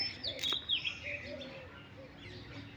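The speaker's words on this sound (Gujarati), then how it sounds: "આ ચકલી બેઠી છે," A sparrow perched on a temple flag gives faint, scattered chirps at a distance over a low background hum.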